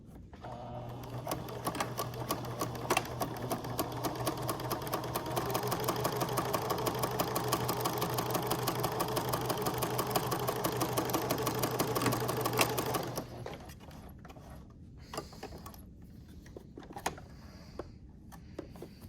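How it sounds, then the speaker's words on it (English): A sewing machine stitches a quarter-inch French seam in a fast, steady motor whir with a rapid needle clatter for about thirteen seconds, then stops, leaving faint handling clicks. "So now we're just gonna sew it a 1/4 inch here"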